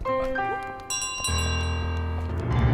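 A bell rings in Untitled Goose Game, bright sustained chimes struck a few times in quick succession with long ringing tails, loud and up close.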